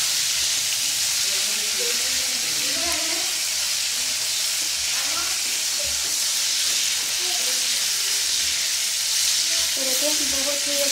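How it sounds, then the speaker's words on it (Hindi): Chicken frying in a pan for a hot soup, a loud, continuous close sizzle and hiss with occasional faint stirring scrapes, no talking. "बहुत ही अच्छे तरीके से हमारा जो है चिकन जो है कुक हो रहा है यहाँ पे"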